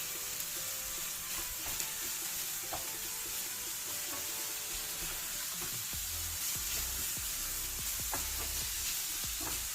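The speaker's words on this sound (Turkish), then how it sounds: "Bunu da bu şekilde malzemesiyle birlikte bir tık daha kızartacağım" Steady sizzling of minced meat frying in a pan, with occasional scraping and stirring clicks throughout, close and fairly loud, no talking.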